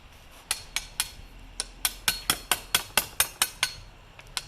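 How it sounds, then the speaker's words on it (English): Hammer driving a chisel to clean out wood for a backyard pergola: about fifteen sharp, close strikes, some spaced out at first and then coming in a steady run, with no talk. "this area you can just come back with a chisel and finish it up"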